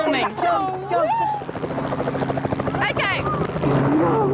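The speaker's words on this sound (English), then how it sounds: "I've never been in a helicopter." Helicopter rotor thumping steadily throughout during aerial filming, close and loud, with excited voices talking over it.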